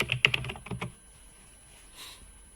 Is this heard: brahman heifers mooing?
no